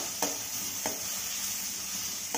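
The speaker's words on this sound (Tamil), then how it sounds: "நல்லா வதக்கிக்கலாம்." Onions and garlic sautéing in oil in a pan, a soft steady sizzle with a few sharp spoon scrapes against the pan at intervals, quiet and close with no talk.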